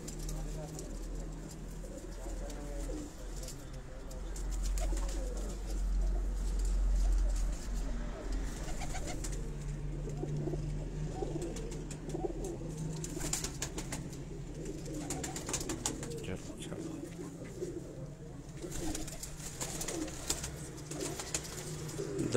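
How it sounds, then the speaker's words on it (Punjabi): Breeder Teddy pigeons from Dubai kept on a rooftop coo in low, repeated rolling calls with soft wing sounds, while voices murmur faintly in the background throughout. "ਦੁਬਈ ਵਾਲੇ ਟੈਡੀ ਕਬੂਤਰਾਂ ਤੁਹਾਨੂੰ ਸ਼ੋਅ ਕਰਾ ਰਹੇ ਹਾਂ ਜੀ"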